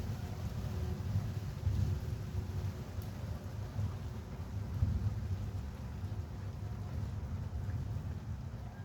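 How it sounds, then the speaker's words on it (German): Heavy rain falling during an evening thunderstorm, a steady low rushing roar with gusty, rumbling swells, moderately faint and continuous, recorded from a window. "Und jetzt regnet es wieder stark."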